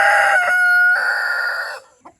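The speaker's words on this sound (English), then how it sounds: "That's my first rooster." A single rooster crows loudly up close, one long drawn-out call that ends abruptly, followed by a brief faint cluck.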